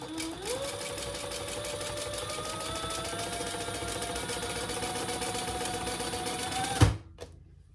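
A sewing machine runs a continuous chain stitch at steady speed for about seven seconds, its motor whirring evenly and close, then stops with a brief clunk and falls quiet.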